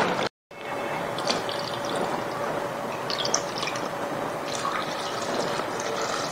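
Water is poured into a pot of potato and meat curry, a soft, steady splashing and trickling that runs for several seconds after a brief dropout at the start.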